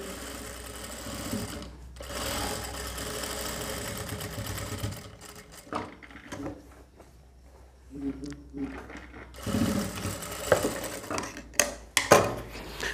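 A sewing machine stitches a strip onto a single-dot tucked blouse in several runs of varying length, close and clear, with pauses and a person talking between and over the bursts.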